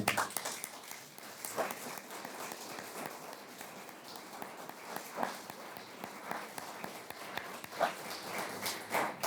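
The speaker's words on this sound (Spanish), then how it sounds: "Creo que deberíamos darles un aplauso" People at a spiritual retreat give the organisers a round of applause, a sparse, uneven patter of hand claps from a modest group with a few louder individual claps standing out.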